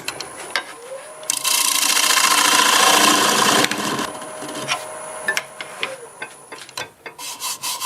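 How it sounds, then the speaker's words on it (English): Negative rake scraper finishing and leveling the inside of a black walnut piece spinning on a wood lathe; a steady rasping scrape builds and holds loud for a couple of seconds, then gives way to shorter intermittent scraping passes. "I'll use a negative rake scraper to finish off this right there and get it leveled out."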